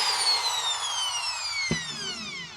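An old Bosch plug-in electric drill runs alone and close by, its motor giving a steady high whine that slowly falls in pitch as it winds down, with a single sharp click partway through.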